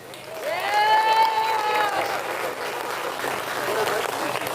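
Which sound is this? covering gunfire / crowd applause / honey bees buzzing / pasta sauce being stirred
crowd applause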